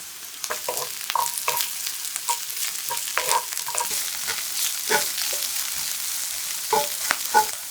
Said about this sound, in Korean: 브로콜리를 넣고 숨이 죽을 때까지 볶아주고